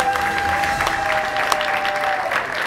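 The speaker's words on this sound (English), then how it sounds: "And then everybody clapped." A crowd-clapping sound effect plays steadily for a few seconds, many hands applauding together at even loudness with faint murmurs mixed in.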